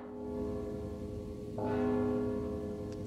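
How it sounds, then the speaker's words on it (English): A resonant bell in the video game Mark of the Ninja rings out with a clear strike about halfway through, its metallic tone sustaining and layered over a steady, humming tonal backdrop with no talking. "Don't you hear the bell?"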